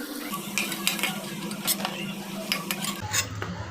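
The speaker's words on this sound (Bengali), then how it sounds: "এইভাবেই বাকিগুলো আমরা ভেজে নেব।" Segora vegetable frying in a kadai with cutlery scraping and stirring against the pan, steady clinks over a soft sizzle, close and moderately loud.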